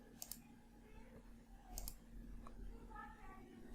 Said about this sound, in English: So click on this.